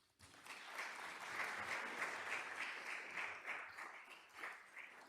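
An audience at a talk on climate change in India applauds to welcome reporter Somini Sengupta, a warm sustained wash of many hands clapping for about five seconds, steady and fairly distant, with no talking over it.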